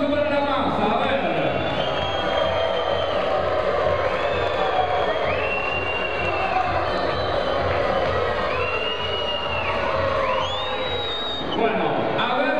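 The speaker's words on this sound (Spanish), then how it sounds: "Quieren escuchar el aliento y el aplauso para la masa." Wrestling arena crowd at a lucha libre match: continuous loud cheering and shouting with whistles and whoops rising above a dense wash of voices, sustained throughout.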